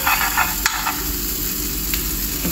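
Margarine and bread sizzle in a dark frying pan, a steady, close crackling hiss with a few sharper pops and no talking.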